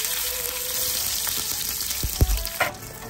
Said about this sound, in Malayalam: നമുക്ക് കടുകെല്ലാം നന്നായി പൊട്ടി വന്ന ശേഷം അതിലോട്ട് 3 വറ്റൽമുളക് ചേർക്കാം